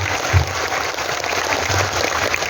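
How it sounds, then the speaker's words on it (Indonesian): A crowd at a religious gathering claps in a steady, dense patter, moderately loud and continuous, with no voices standing out. "Tepuk tangan untuk Banser Taiwan."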